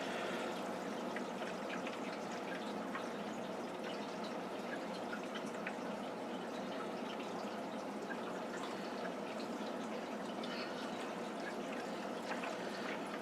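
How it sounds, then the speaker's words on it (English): Water drains steadily through a siphon during an aquarium water change in a T-bar tank, a continuous soft trickling and gurgling with faint drips, quiet and unbroken throughout. "So I'm just using my regular old water change siphon"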